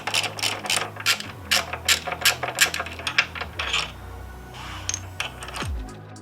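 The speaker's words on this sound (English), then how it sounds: "Next thing we're going to remove are these caliper bolts." A ratchet turns the 12 mm caliper bolts on a Yamaha XSR900 brake, giving a run of close, crisp clicking bursts in an uneven rhythm, with metallic clinks and a brief low thud near the end.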